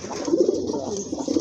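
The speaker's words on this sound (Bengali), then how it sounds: "একটি ফ্রেশ কবুতর, খুবই ডাকতেছে" Pigeons coo close by in soft, low, throaty rolling calls that repeat through the short stretch. No one speaks.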